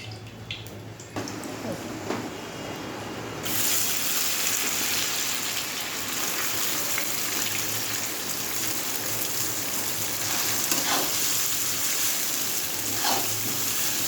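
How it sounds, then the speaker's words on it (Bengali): Chowmein frying in oil in a wok, a steady broadband sizzle that jumps louder after a few seconds and then holds continuous, with faint scraping or stirring touches throughout. "এবারে আমি কড়াইয়ে তেল দিয়ে নিই, চাউমিনটা করব"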